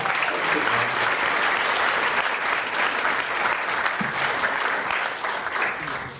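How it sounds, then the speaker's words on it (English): Audience applause at an NAACP town hall meeting, dense continuous clapping from a room of people, steady and fairly loud, tapering slightly at the end. "And let's give Pastor Crawford a round of applause."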